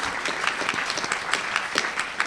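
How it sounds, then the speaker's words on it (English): Lecture audience applauding local sponsor Santa Cruz County Bank; dense, even clapping from a sizable crowd, close and steady throughout with a few sharper individual claps standing out. "So please give them a round of applause."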